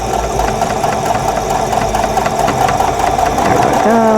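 A sewing machine stitches a quilt block in a loud, steady rapid whir with a mechanical knocking rhythm that slows near the end.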